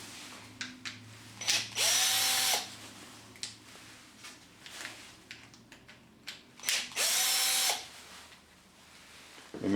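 Two screws come out of a power tool casing during a flex cord replacement, with two short whirring runs of a driver, each rising and then stopping, separated by small clicks and handling noises.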